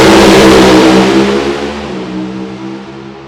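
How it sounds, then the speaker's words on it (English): A race car engine roars loudly up close, its pitch sweeping as it revs, then fading slightly as it pulls away. "RPM's up. Listen to it shifting."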